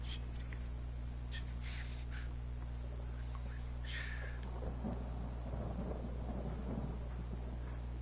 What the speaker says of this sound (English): Maybe they're all inside to get away from the rain.